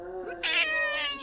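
A cat on a street in Bandung, Indonesia, gives a single drawn-out meow that rises into a brighter, strained middle before trailing off, close and clear with no talk.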